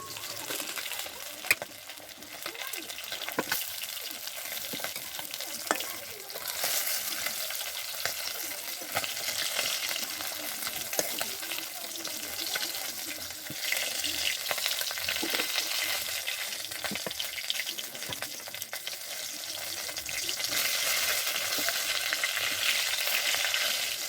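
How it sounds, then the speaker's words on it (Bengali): Fish frying in hot oil in a home kitchen, a steady, bright crackling sizzle with occasional louder spits and stirring, continuous throughout with no talking. "মাছগুলো আমার সুন্দর করে ভাজা হয়ে গেছে"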